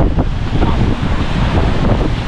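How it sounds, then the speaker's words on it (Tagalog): Strong gusty wind buffets the microphone in a loud, constant roar, with the rushing noise of heavy rain beneath it. "Malakas ng ulan, lakas din ng hangin."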